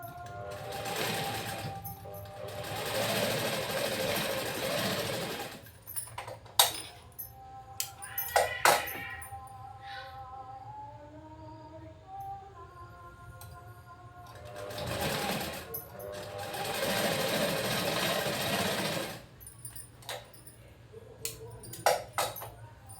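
Sewing machine stitching a 36-inch-bust blouse, with two long, loud bursts of steady motor whirring and needle clatter separated by quieter handling clicks and light tapping.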